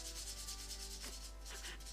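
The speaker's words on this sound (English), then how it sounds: "lightly rub the file over the rest of the nail to make sure there's no dints or lumps in the product at all" A nail file rubs lightly over acrylic nail product, giving soft, faint, rhythmic scratchy strokes repeated close up with no voices.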